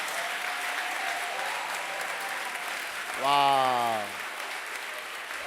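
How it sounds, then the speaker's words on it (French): A pastors' conference congregation claps and applauds, a broad wash of hand noise filling the hall under a single short exclaimed voice. "Give the Lord a mighty clap of praise."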